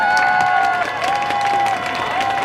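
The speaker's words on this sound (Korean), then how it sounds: "힘찬 응원의 박수로 맞이해 주시기 바랍니다" An audience at a Wednesday street demonstration on the Japanese military sexual slavery issue claps and cheers to welcome a performance, with a sustained tonal voice or whistle riding over the applause.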